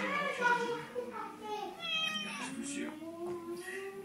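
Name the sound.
cat meowing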